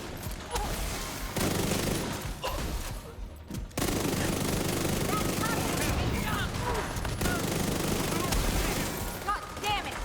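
Turret gunfire in an online shooter video game, sustained rapid bursts of shots filling most of the stretch, with a brief lull partway, loud and dense.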